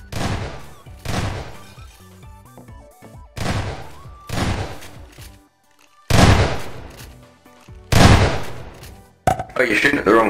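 Repeated bursts of video game gunfire in a Prop Hunt match, loud broadband blasts recurring every second or two, with players talking throughout.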